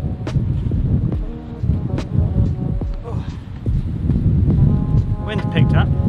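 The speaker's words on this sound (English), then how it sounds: "Wind picked up, which you probably can hear" Wind gusting outdoors by a sunny lake during a hike near Stockholm, a steady broadband rush of wind noise across the mic that swells toward the end, with a voice talking over it.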